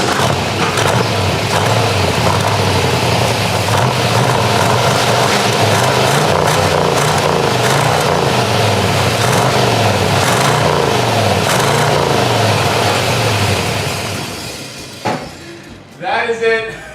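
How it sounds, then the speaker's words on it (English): An old, rusty engine being fed brake cleaner roars in a loud, steady rev for about fourteen seconds, then fades and coughs out in a few ragged sputters, with voices heard alongside. "I was just force feeding it brake clean so it could get a little rev cough for you"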